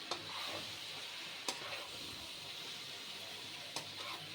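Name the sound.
gently stirring fish curry with masala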